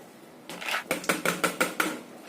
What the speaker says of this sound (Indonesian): Kemudian kita masukkan kacang hijaunya.